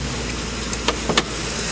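Under the hood of a 2009 Ford F-150 SuperCrew FX4 4WD, the engine idles smoothly in a steady low hum, with a few faint clicks over the top.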